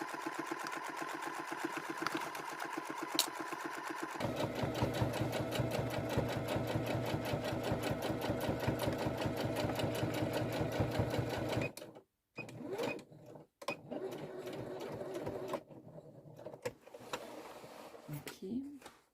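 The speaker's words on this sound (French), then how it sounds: "Et maintenant on va coudre le fond de sac." A sewing machine stitches the bottom of a fabric bag with a fast, steady, rhythmic chatter that runs loud and close, then stops and restarts in short bursts with brief pauses between them.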